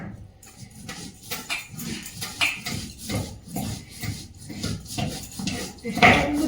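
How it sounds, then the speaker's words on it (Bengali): Spices are ground on a traditional stone slab (shil-nora) in a rhythmic back-and-forth rasp of stone on stone, steady strokes close by, with faint voices in the background. "অনেকদিন পর শিলে বাটতে বসেছি"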